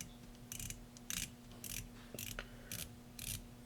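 Clicking of a stainless steel, black PVD-coated unidirectional 120-click bezel on a Helm Vanuatu watch, heard as several short bursts of fine ratcheting clicks, quiet and close, with no talking.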